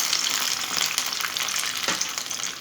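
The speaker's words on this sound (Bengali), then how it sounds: "এখন একদিক কিছুটা ভাজা হয়েছে, এখন আমি উল্টো দিকটা ভাজার জন্য উল্টিয়ে দিলাম।" Coriander leaf chops sizzle steadily in a frying pan after being flipped, a continuous crackling hiss with occasional stirring, heard alone without talk.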